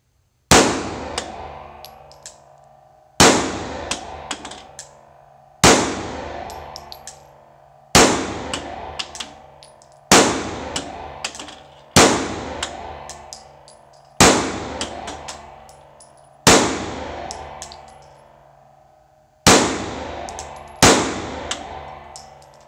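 A Glock pistol fired at a shooting range, ten sharp, loud shots spaced a couple of seconds apart, each followed by a short ringing decay.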